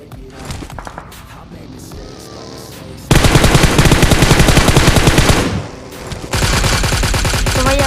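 Bursts of automatic gunfire from the mobile shooter game PUBG Mobile, fired at a buggy's tyres: loud, dense rapid volleys that start suddenly, pause briefly, then resume, over a lower-level game soundscape.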